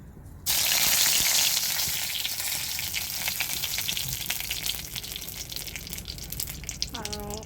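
A bay leaf dropped into a little hot oil bursts into a loud sizzle that then settles into steady, crackling frying, with a brief voice near the end.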